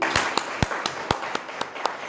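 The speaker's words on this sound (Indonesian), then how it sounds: "Sekali lagi, tepuk tangan untuk kita semua." Scattered hand claps from a small classroom audience, about eight distinct claps in an irregular rhythm, moderately loud and close, with no talk over them.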